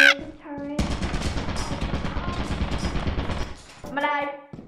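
A turret in the video game Lethal Company fires a sustained rapid burst of gunfire lasting about three seconds, loud and close, with people's voices just before and after it.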